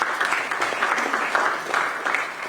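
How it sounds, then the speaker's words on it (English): Moderate applause from a conference audience at an EU climate diplomacy event, a steady patter of clapping that swells and dips in small waves over a couple of seconds. "Please give them a round of applause."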